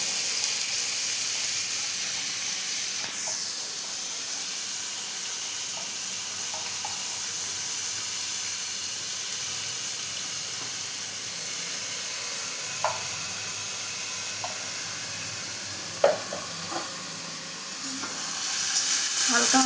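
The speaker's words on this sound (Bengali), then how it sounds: "পেঁয়াজ কুচিটা দিয়ে দিলাম।" Chopped onion sizzling and frying in a pan for chicken pulao, a steady soft hiss throughout with occasional stirring clinks and small pops, close and fairly quiet, no talk.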